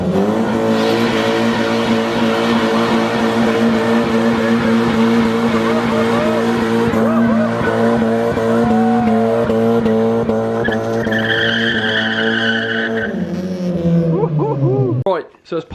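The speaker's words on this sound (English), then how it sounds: "I do like a burnout or two." Honda Civic doing a burnout, a loud sustained revving engine with harsh tire squeal and skidding for about fifteen seconds, the note rising near the end before cutting off.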